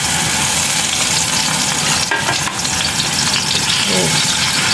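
Eggplant fries in hot oil in a pan for tortang talong, making a loud, dense, continuous sizzle with a brief stir or scrape partway through.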